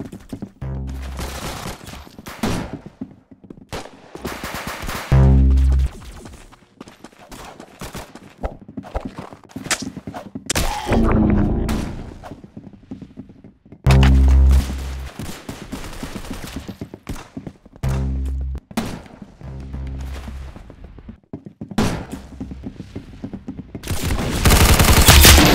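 Bursts of video game gunfire, loud and close, come in several clusters of rapid shots, with some heavy booming blasts and a dense volley near the end, and no talking.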